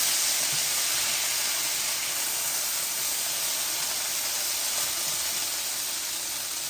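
Potatoes sizzling and hissing in a hot cast iron pan as they are stirred, a loud continuous broadband frying hiss that holds steady from start to finish.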